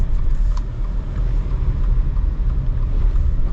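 A 2025 Subaru Outback Touring XT's turbocharged engine pulls hard under acceleration, a steady deep drone with road and wind rumble inside the cabin throughout, no voices.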